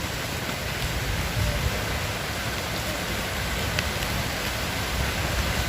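Steady rain falls outdoors in a broad, constant hiss that fills the whole stretch, loud and close with no pauses and no voices.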